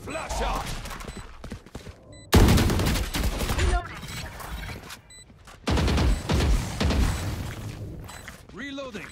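Rapid bursts of gunfire hit a wall in a video game, loud and repeated in several volleys with short gaps between them, while a player talks over the shooting.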